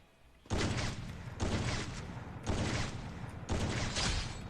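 Grenade blasts in the mobile battle royale game Free Fire, four loud broadband bursts spaced about a second apart, each with a sustained rumbling tail and no talk over them.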